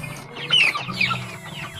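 Several free-range village chickens cluck and chatter close by in a brief, busy burst of overlapping calls.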